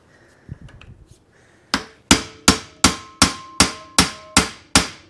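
A hammer strikes a stuck kingpin in a Ford brake drum in eight sharp, evenly spaced metallic blows, loud and close, each ringing briefly, after a few faint clinks and scraping.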